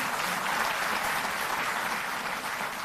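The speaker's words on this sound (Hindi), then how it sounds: "तालियों में कंजूसी नहीं" A crowd applauding steadily, dense clapping that holds at an even, fairly loud level throughout without pause.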